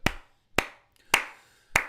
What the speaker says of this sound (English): They're clapping for Andrew Fafita